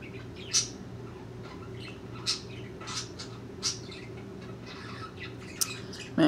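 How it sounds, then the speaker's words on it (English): Birds chirp and squawk in the video game Minebuilder, sharp isolated calls popping up every second or so over a constant low background hum. "I'm getting really pissed off about those birds."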